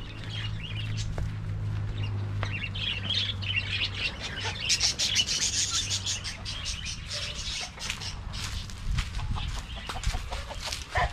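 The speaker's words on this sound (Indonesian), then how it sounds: "Ni burung pun ada." Birds chirp and squawk in an open-air fish-breeding area, with busy overlapping calls, clucks and squawks that are fairly close and continue throughout over a low background hum.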